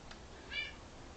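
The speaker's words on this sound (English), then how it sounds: "She's very meowy." A single short cat meow, fairly faint, rises once over a quiet room background with no talk.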